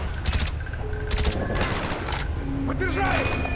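Rapid bursts of gunfire in Call of Duty: Black Ops crackle in repeated volleys, with shouted voices and radio chatter mixed in between the shots.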